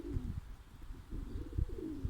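Tumbler pigeons kept as flying birds coo in low, throaty, repeated phrases, close by and fairly soft, with no voices.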